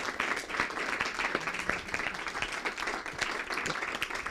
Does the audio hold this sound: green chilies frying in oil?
no